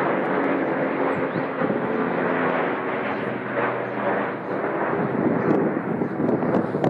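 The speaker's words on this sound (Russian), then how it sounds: "самый скоростной в мире самолет с винтовыми двигателями – стратегический бомбардировщик-ракетоносец" A Tu-95MS strategic turboprop bomber flies overhead with a loud, steady droning roar that swells slightly, with some wind buffeting on the microphone.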